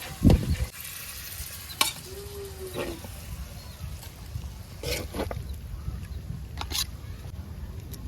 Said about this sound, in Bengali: দই গোস্তটা ভাজা দিই